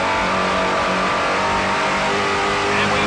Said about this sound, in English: Those navigation engines now revving up.